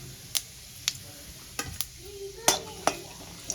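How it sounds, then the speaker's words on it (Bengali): Dried red chillies and whole cumin seeds frying in hot oil for a tempering, a steady soft sizzle with several sharp clicks and scrapes of a stirring spoon against the pan, close by and without speech. "ফোড়নটা আমি ভালো করে ভেজে নেব।"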